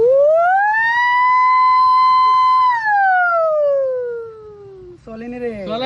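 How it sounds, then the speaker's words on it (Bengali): A single ambulance siren wail climbs, holds a steady tone, then slowly falls, loud and clear, before a brief jumble of different, wavering sounds cuts in at the end. "ওখানে অ্যাম্বুলেন্সের ডাক।"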